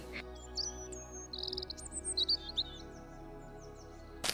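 A small blue bird in an animated story chirps and tweets in quick, bright bursts, a lively run of short calls, close and clear over a quiet background.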